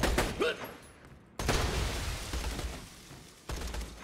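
Sniper rifle gunfire in Borderlands 2, sharp loud bursts of shots with gaps between volleys, mixed with game effects and a voice speaking.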